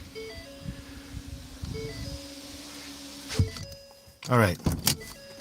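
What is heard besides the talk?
car power windows rolling up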